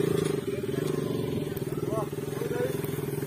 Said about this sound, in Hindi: तो इब्रार भाई बोल रहे हैं कि मैं अपनी बाइक यहाँ से नीचे उतारूंगा